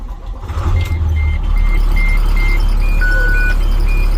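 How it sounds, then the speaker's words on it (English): A 2008 IC CE 300 school bus with air brakes cranks and catches, settling into a loud, steady diesel idle close by while a high intermittent beeping tone pulses over the engine. "Release as soon as the engine starts."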